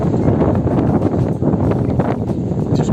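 Strong wind buffeting a microphone outdoors near Gibraltar, a loud, continuous rumbling roar with gusty surges throughout, no voices heard.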